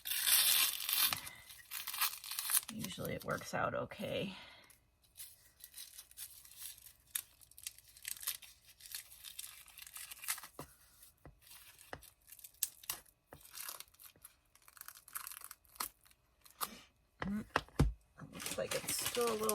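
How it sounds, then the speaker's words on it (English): Tape being peeled off acrylic-painted tiles in crackly, tearing bursts, close up, with a person talking over parts of it. "I'll just start peeling off the tape first"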